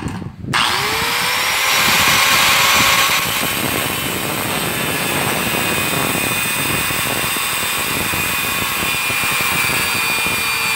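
An angle grinder cuts metal while fitting a shifter extension on a Yamaha SZ motorcycle, producing a loud, continuous high-pitched whine and grinding roar close by that spins up at the start and holds steady throughout.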